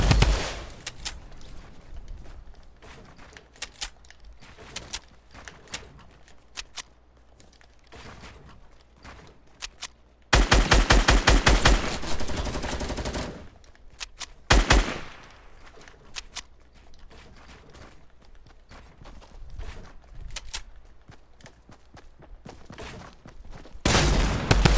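Video game battle gunfire crackles through a solo match, with rapid automatic bursts and scattered single shots, a dense loud volley in the middle, then sporadic fire and footsteps toward the end.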